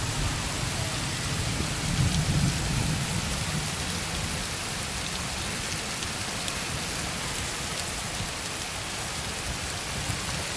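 Steady heavy rain pours down during a thunderstorm over a backyard cucumber garden, a dense continuous wash of drops with a low rumble of thunder early on, no voices.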